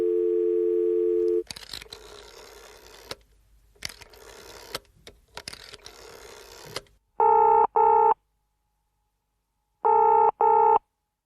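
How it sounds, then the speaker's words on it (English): A telephone call placed for a podcast: a steady dial tone, a run of dialing clicks and tones, then two double-burst ring signals separated by silence, clear and close. "we should pick up the phone and give Justin a call"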